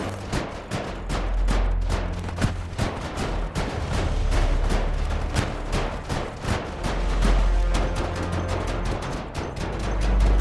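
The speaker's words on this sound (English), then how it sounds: "whilst the turrets keep blasting" Automated turrets blasting a zombie horde in Project Zomboid, a dense, unbroken barrage of rapid gunshots piling on top of one another at steady high volume for the whole stretch.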